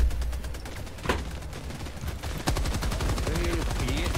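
Rapid automatic fire from a Gatling gun in the shooter game Helldivers 2, a dense rattling burst starting midway and continuing steadily to the end, loud and close, with a sharp blast just before it.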